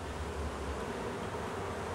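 Honeybees swarm around an opened hive that has just been smoked, making a dense, steady buzz of many wings that fills the whole moment without letup.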